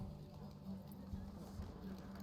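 Galloping horse hooves in a horse race in the video game The Witcher 3, a quiet, steady clip-clop rhythm running throughout with faint voices mixed in.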